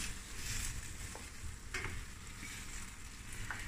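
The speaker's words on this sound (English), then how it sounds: "And now we're just gonna stir fry this." Chicken chow mein stir-frying in a pan, with steady crackling sizzle and occasional scraping stirs throughout, fairly close and constant with no talking.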